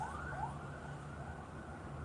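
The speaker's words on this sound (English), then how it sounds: "Sirens in the background." Faint distant police or emergency sirens wail and sweep up and down beneath a steady background hum.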